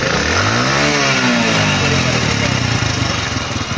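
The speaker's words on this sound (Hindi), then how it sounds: "ये मैंने अभी बाइक को स्टार्ट किया। ठीक है, मैं इसकी रेस" A just-started motorcycle engine runs close by, loud, and revs up and down in a rising and falling whine over a steady idle, with a voice briefly heard.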